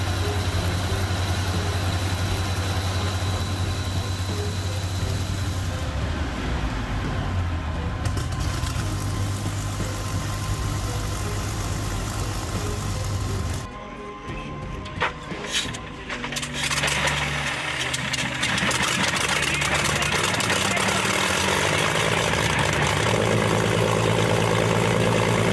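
A Rolls-Royce Griffin 2,450 horsepower engine runs at throttle with a steady, heavy mechanical drone. It dips briefly midway, then returns louder and rougher for the rest of the stretch.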